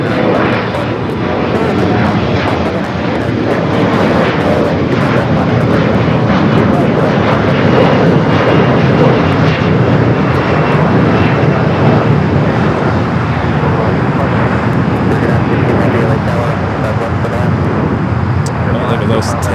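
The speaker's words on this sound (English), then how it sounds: "It's JetBlue flight coming up from Boston, flight 687." A JetBlue airliner's jet engines at LAX make a loud, steady roar that fills the whole stretch, with voices talking over the din.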